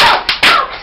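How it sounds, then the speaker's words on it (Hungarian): Children clap their hands in time to a Hungarian folk song, with three quick, close claps and their singing voices carrying through. "Ha jó a kedved, tapsolj nagyokat!"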